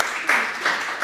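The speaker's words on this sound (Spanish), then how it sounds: "Aplauso para Luis." Brief applause from an audience welcoming a journalist at a communication event, a short burst of clapping with two slightly louder swells.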